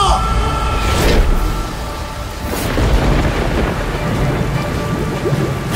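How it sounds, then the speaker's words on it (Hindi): Thunderstorm with steady heavy rain and rolling thunder, two broad bursts of thunder swelling over continuous rain noise; loud and close, with no talking. "अचानक जोर की बिजली कड़की"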